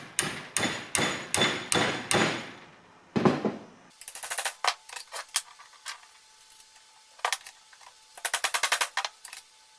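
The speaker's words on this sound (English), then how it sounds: "Then I put the rod in a vise and used a hammer to make it as straight as I could." Hammer blows straightening a BMW E30 M3 tool kit rod held in a vise: a run of sharp, regular metallic strikes, then a pause and further clusters of quicker, lighter taps, close and loud with no talk.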